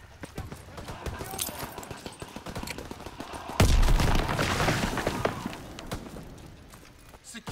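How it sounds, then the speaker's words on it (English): Bombs and artillery explode during a Call of Duty WWII Domination match in Aachen, with one big blast landing midway amid crackling gunfire and a rumbling roar, and voices talking over the battle. "There's bombs everywhere, boys."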